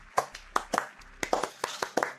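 A small group clapping on a French game-show set, irregular sharp claps in a loose rhythm, close and moderately loud with no talking.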